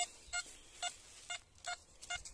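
Six short electronic metal detector beeps, each a clear high tone with harmonics, spaced irregularly about half a second apart against quiet background, while searching a Bavarian World War II battle site for spent shell casings.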